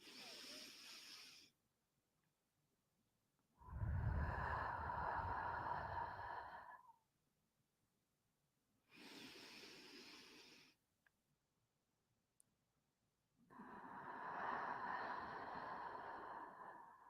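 A group doing cat-cow yoga breathing: four long, breathy inhales and exhales alternate with short pauses, close and soft, with no talk.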